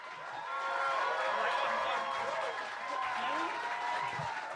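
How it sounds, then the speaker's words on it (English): Jazz concert audience applauding steadily and loudly at an International Jazz Day celebration, a dense sustained wash of clapping that swells and holds, with music and voices mixed in underneath. "and you keep applauding louder,"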